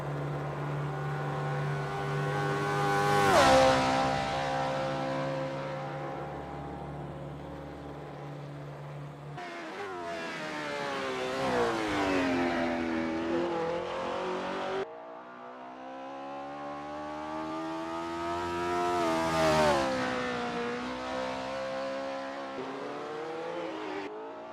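Race cars from the 1970 RSS V8 mod warm up at the 1967 Kyalami circuit in a racing video game. Several engines rev and sweep past with rising and falling pitch, loud and close, with no talking.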